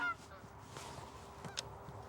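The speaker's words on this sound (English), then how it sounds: "A few geese flew over as we were setting up, but Wade knew that some big flocks were wor" Geese honk a few times in brief calls while passing overhead at a late-season open-water hunting spot, the sounds faint and distant over steady wind noise.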